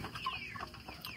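Broiler chickens on a farm give faint, brief clucks and soft chirping calls at a short distance.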